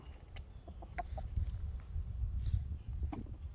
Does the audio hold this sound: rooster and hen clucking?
yes